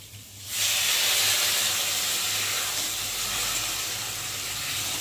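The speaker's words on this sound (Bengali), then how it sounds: "আর এখন আমি জল ঢেলে দেবো।" Water poured into a pan of frying spiced potatoes gives a loud, steady hiss that bursts in after a brief quieter moment and holds close and continuous to the end, with no talking.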